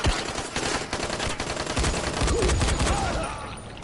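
Gunfire from bandit NPCs in the game Dying Light, a dense crackle of rapid shots over the first couple of seconds, fading into a softer tail.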